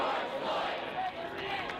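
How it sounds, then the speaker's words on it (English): A crowd at a George Floyd memorial, kneeling and chanting his brother's name, a dense wash of many voices, loud and continuous, heard from within the gathering. "The crowd waiting for him, kneeling, chanting his brother's name."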